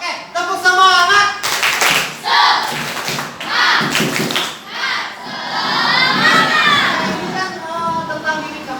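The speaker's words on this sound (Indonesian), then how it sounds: "Oke, tepuk semangat." Children in a classroom perform a rhythmic spirit clap, bursts of group clapping and shouting that come in and out, with loud crowd voices throughout.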